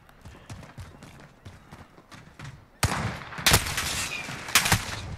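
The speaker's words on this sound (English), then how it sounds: "Oh, now they're shooting me." Gunfire from a Russian ASH-12.7 bullpup battle rifle in Call of Duty Modern Warfare: scattered distant shots at first, then louder, denser bursts of close automatic fire with sharp cracks over a busy battlefield din.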